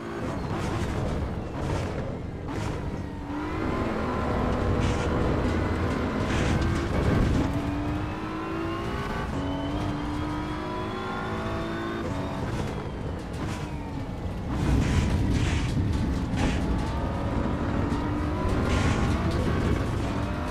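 Race car engines roar around the Nürburgring in the racing game Assetto Corsa EVO, a loud continuous drone of revving and shifting pitch as cars accelerate, brake and overtake.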